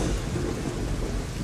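Heavy rain shower pours down with thunder rumbling, a dense steady roar of rain filling the whole clip, loud and close, with a deep low rumble beneath.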